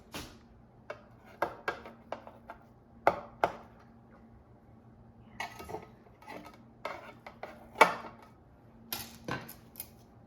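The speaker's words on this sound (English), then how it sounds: "let's just cut into a few slices" A knife cuts slices from a loaf of almond flour banana bread, giving irregular close knocks and taps of the blade against the board, with quiet gaps between and no talk.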